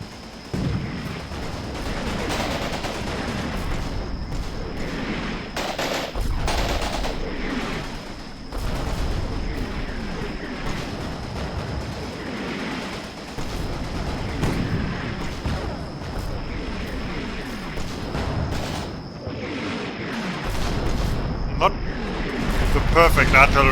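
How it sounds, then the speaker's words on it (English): A mortar artillery barrage in the WWII game Combat Mission set in Berlin 1945: repeated booming impacts and crackling blasts spread unevenly through the stretch, with someone talking over much of it. "Oh yeah, here comes my mortar barrage."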